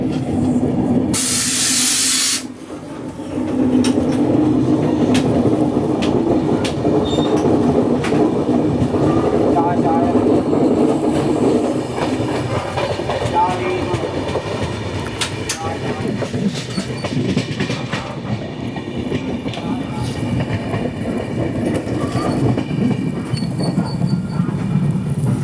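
Sachkhand Express from Amritsar to Nanded, running through the Nanded division, rumbles steadily on the rails with rhythmic clatter and a brief loud hiss near the start, heard from inside the carriage for the full stretch.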